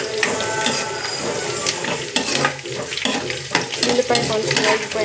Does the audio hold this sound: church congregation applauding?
no